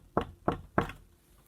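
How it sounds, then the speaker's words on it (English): Three firm knocks on a wooden door, evenly spaced and close, each a sharp thud with a short ring-off, followed by quiet. "Then there was a knock at the door."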